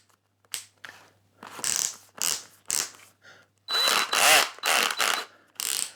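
A Lidl Parkside 20V cordless drill with a metal chuck runs in a series of short whirring bursts with ratcheting clutch clicks, close and separated by brief silences.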